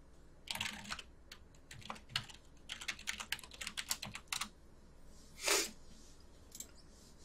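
Quiet, close clicking of a computer keyboard as a password is typed, with irregular bursts of keystrokes and short pauses, followed by one heavier soft thud.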